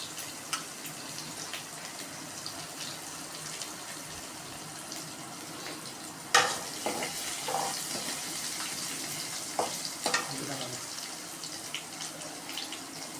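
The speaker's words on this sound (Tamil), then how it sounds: "இஞ்சி பூண்டை போட்டாச்சு. நல்லா வதக்குறோம் பாருங்கள்." Ginger and garlic sauté in a pan for cauliflower curry, a soft steady frying hiss with a few sharper clinks and stirring sounds near the middle.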